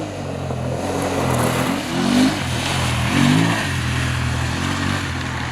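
A 2019 BMW F850GS Adventure touring motorcycle rides along with a steady mid-pitched engine drone, swelling twice as the rider works the throttle, close and loud with wind noise and no voices.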